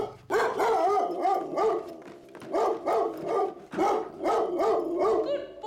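A dog barks in bursts of repeated, close, fairly loud woofs with short pauses between volleys.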